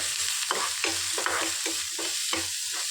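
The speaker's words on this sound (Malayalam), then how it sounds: "അപ്പോൾ ഇതാ എണ്ണ ചൂടായിട്ടുണ്ട് അപ്പോൾ നമുക്ക് ആദ്യം സവോള ഇട്ട് കൊടുക്കാം" Sliced onions sautéing in hot oil in a pan, with a steady loud sizzle and a spatula scraping and stirring in a loose rhythm about every half second, close up and with no talk.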